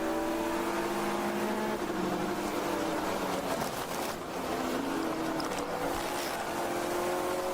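Endurance race cars on the VIR circuit during a ChampCar Endurance Series national championship, one car passing another and braking into a downhill section, producing a steady, loud, continuous engine drone with shifting tones and no talk.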